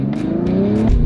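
A 2023 Tesla Model 3 electric car launches hard and accelerates with a steady, loud roar and a rising whine, heard close by from inside and continuous.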